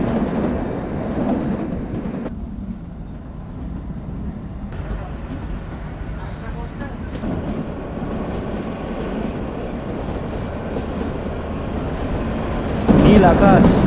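The Shivalik Deluxe Express toy train on the Kalka–Shimla mountain line rumbles steadily from inside a carriage, with constant low clatter and rattling. The noise briefly swells and changes as the track changes near Taradevi station.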